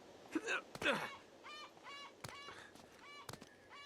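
Goose in the PS3 game Uncharted: Drake's Fortune gives several clear, nasal honks, a pair close together early, then single ones spaced out over quiet game ambience.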